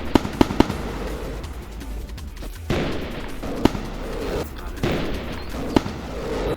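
Rockets fired from a mobility suit in Roblox Build a Boat for Treasure, heard as a string of sharp firecracker-like pops and bursts over a steady roaring background, several shots spaced irregularly.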